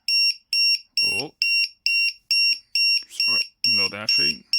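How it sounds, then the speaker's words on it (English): A low-battery warning beeper on a fire control module gives a steady run of short, sharp beeps about twice a second, close and loud, while a person talks over part of it. "Sorry about the beeping."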